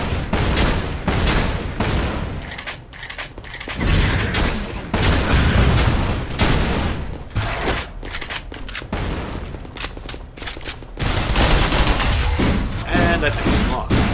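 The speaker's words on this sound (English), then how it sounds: "Running out of one type of ammo, so I'll just switch to grenades." Grenade blasts and gunfire from the co-op shooter game Gunz 2, a dense, continuous barrage of loud booms and bursts across the whole stretch, mixed with a talking voice.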